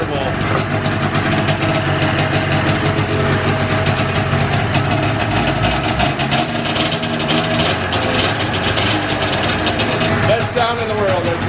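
A Ski-Doo 470 snowmobile engine, pulled from storage and revived, runs loud and close with a steady, dense two-stroke drone the whole time, its pitch wavering slightly while someone talks over it.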